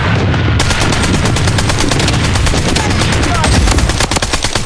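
Dense, loud automatic gunfire fills a firefight in the mobile shooter Blood Strike, rapid bursts overlapping almost without pause for the whole stretch, with booming low impacts.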